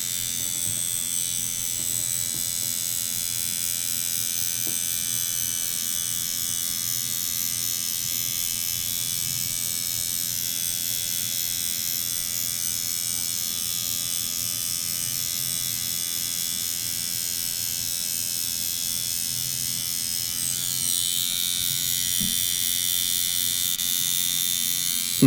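A tattoo machine buzzes continuously at close range while tattooing, a steady electric hum that barely changes for the whole stretch, with a slight shift in tone near the end and no talk over it.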